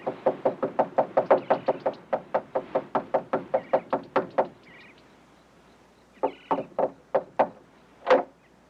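Rapid knuckle knocks on a front door, a long run of about twenty evenly spaced raps, a pause, then a few slower, louder knocks, close and with no talking.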